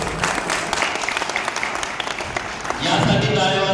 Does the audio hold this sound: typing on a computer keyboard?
no